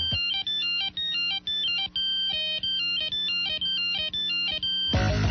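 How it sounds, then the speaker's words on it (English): Nokia 8260 or 5165 mobile phone ringtone played in a radio advert, a loud, bright, repeating electronic melody of quick beeping notes in short phrases, ending with a burst of broader noise. "Hundreds of ringtones there for you to buy and download right to your Nokia 8260"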